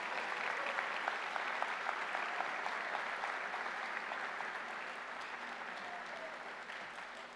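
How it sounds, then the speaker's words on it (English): High school graduation audience applauding, a steady wash of many hands clapping at a distance, sustained and slowly tapering. "We can clap for her."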